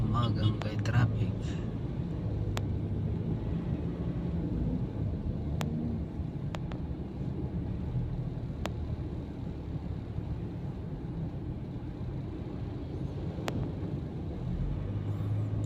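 Slow, congested morning traffic on a wide seven-lane northbound expressway, a steady low rumble of idling and crawling cars and trucks with occasional faint clicks, while someone talks throughout.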